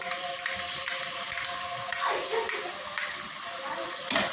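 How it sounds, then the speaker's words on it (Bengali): A spoonful of garlic paste dropped into hot oil for a koi fish curry, producing a dense, bright hiss of sizzling with a couple of stirring scrapes, steady and close. "এখানে এক চামচের মতো রসুন বাটা আছে আমি দিয়ে দিলাম"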